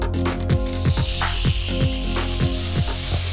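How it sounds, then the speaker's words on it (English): Pork loin sears in a smoking hot pan in a Gozney oven, giving a loud, steady sizzle and hiss broken by repeated short crackles. "I'm gonna add the pork loin to the pan."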